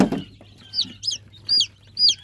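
Indian and Brahma chicken chicks fresh from a hatchery, peeping in a series of high, sharp chirps that come about every half second, with a short low thump at the start and no talk.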